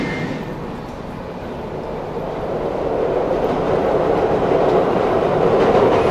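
A passenger train on the Milan–Turin–Lyon route rumbles along its rails with a steady, loud roar that slowly swells, heard up close with no talking.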